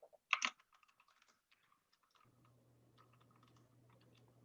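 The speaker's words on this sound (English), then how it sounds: "Here, let me just type it up." Clicky keystrokes on a newly bought computer keyboard, a quick burst of close, fairly loud taps followed by a run of lighter, scattered presses over a low steady hum.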